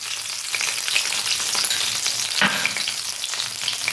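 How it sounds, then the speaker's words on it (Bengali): Ginger-cumin paste frying in hot oil with green chillies for a fish shukto, a dense continuous sizzle close up with faint stirring scrapes throughout and no talking. "আমি এখানে আদা জিরে বেটে রেখেছিলাম জিরে আদা বাটাটা দিয়ে দিলাম"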